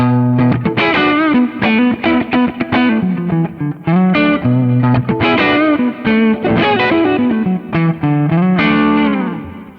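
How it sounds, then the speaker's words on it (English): Distorted electric guitar through a humbucker pickup and a Kemper amp plays a thick, chunky riff of palm-muted chugs and sustained chords, loud and up front with no voices. "check out the sound of just this humbucker by itself."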